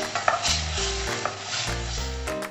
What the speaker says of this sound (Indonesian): Mentega akan cair dan lemak mentega akan menggoreng cendawan,